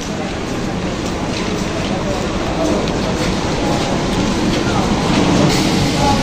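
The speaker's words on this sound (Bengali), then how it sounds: "চল, ট্রেন চলে এসছে, ওঠা যাক ট্রেনে।" A Naihati local commuter train runs with a steady, dense rumble and rattle that builds slightly toward the end, under faint crowd babble on the platform.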